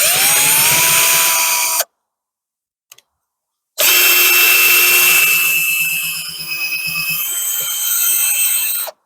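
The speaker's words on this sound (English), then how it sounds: "just going to go over that first one again with a 6mm drill" A power drill with a 6mm bit whines loudly at close range, stops for a couple of seconds, then starts again and bores steadily into pallet wood, its pitch shifting under load.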